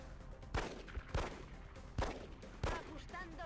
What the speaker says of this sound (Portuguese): Isso é sniper, tá, gente?